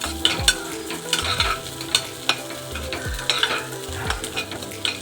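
Beans being stir-fried in a pan for mushroom fried noodles, with a steady sizzle and repeated scraping strokes of a spatula at close range, no voices.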